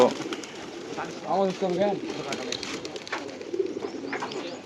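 Giribaz pigeons coo softly in rolling bursts amid a busy flock at a large rooftop pigeon farm, with people talking nearby in the background.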